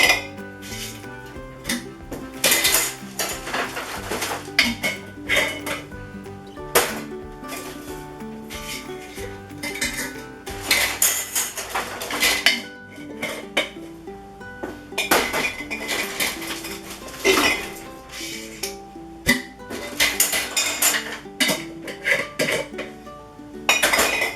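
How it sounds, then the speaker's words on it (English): Glass storage jars and lids being washed for a pantry, with repeated loud clinks, knocks and clatters of jars and lids handled close by, arriving in irregular bursts over running water. "So I'll wash these up before I store anything in them."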